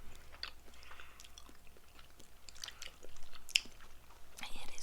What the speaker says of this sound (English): I just bit off the size of a Hershey's Kiss.